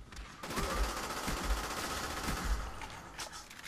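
Sustained gunfire from a Call of Duty video game, a dense continuous fusillade of rapid shots at steady loudness throughout, with no talk over it.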